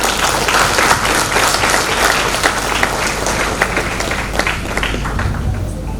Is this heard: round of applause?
yes